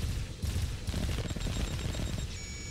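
Missiles launching from a strike fighter in the space combat game Space Wars, a dense, loud barrage of rapid bursts and crackling blasts that fills the whole clip with no talking.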